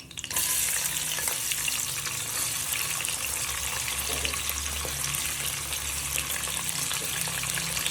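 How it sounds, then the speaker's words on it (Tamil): Onions for mutton biryani fry in hot oil in a pan, giving a steady, loud sizzle that runs unbroken throughout with no voices. "இதில் இப்போ நம்ம பொரியுது வெங்காயம் போட்டுக்கலாம்."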